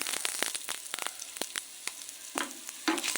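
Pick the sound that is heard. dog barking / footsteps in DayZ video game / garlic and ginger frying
garlic and ginger frying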